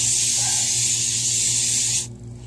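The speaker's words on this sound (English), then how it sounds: "I spray my palette." A steady, loud aerosol spray of adhesive onto a screen printing pallet hisses continuously for about two seconds, then cuts off abruptly, leaving a quiet background hum.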